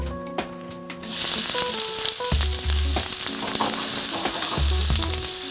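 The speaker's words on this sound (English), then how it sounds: "So now I'm going to add my onions" Onions sizzling and frying in a saute pan while cooking a Southern fish and grits meal, a loud steady crackling hiss that begins abruptly after a second and runs on without pause, with a few clinks of a utensil stirring underneath.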